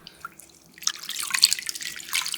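Blanched mugwort goes into cold water, making a soft splash that builds into steady trickling and sloshing close by, moderately loud after a quiet start.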